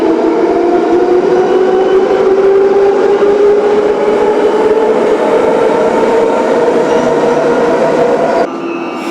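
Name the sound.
Warsaw metro subway train running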